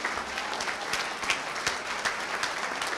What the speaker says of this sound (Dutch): nog een hard applaus voor deze mensen allemaal en hun fractiegenoten